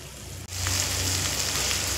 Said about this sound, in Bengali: মিডিয়াম ফ্লেম করে খুব সুন্দর করে মশলাটা আমি কষিয়ে নেব